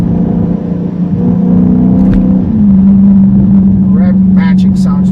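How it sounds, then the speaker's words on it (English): Dodge Charger Scat Pack V8 exhaust droning at a steady pitch, then a quick blip as the engine rev-matches on a downshift and settles into a lower, louder hum, heard from inside the car with some voice at the end. "When you downshift, we're rev matching."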